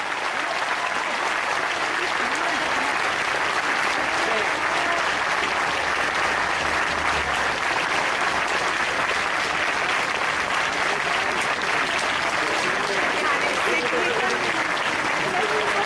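An audience at an educational institution event gives a long, loud round of applause for Dr APJ Abdul Kalam, dense sustained clapping with voices murmuring beneath.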